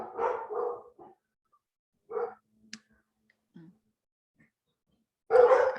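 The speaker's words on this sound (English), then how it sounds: "There's a yard cur outside the window and they're going crazy." Indoor dogs bark in short bursts at a yard cur outside the window, a couple of loud volleys at the start, a lone yelp mid-clip and a sharp loud bark at the end, with gaps of quiet between.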